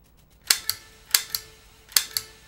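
Gunfire from the NES game Duck Hunt: six sharp, bright electronic shots in three quick pairs, each a crisp snap followed by a short decay, loud and clear over faint background hiss, with no talking.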